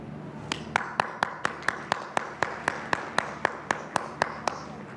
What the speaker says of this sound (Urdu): ذرا تالیاں بجائیں نا.